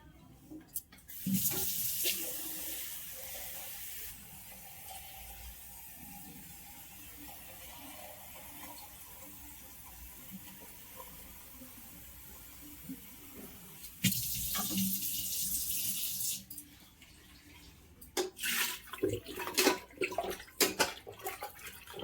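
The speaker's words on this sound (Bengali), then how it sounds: "একটু জল লাগবে।" Water runs from a tap in two bright, steady streams, one long and one shorter, as it is added to a pan of chicken curry, with soft clattering and handling noises afterward.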